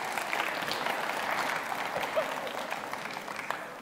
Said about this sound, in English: Yeah, we could clap for her.